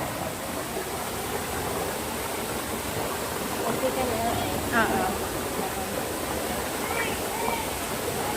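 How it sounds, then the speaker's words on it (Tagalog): Water pours steadily down a waterfall beside a hiking trail, a constant rushing hiss that fills the whole stretch, with brief voices chatting faintly over it. "Ang tubig."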